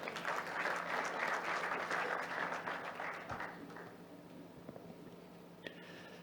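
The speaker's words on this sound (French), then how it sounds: "je vous prie d'applaudir bien fort, s'il vous plaît" Conference audience applause rises as a broad, dense clatter of many hands, sustained for several seconds before fading away into near quiet, with a few stray claps at the end.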